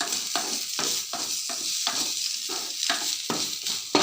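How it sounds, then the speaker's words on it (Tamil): Ingredients being sautéed in oil in a pan in a home kitchen, with a steady close sizzle and repeated stirring scrapes at a fairly even rhythm for about four seconds, and no talking. "எண்ணெய் பத்தலைன்னாக்கா இன்னும் கொஞ்சம் எண்ணெய் ஊற்றி நல்லா வதக்கிடுங்க"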